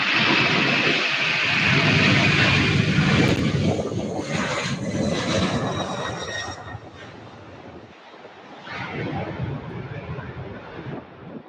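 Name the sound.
UPS Airbus A300 cargo jet departing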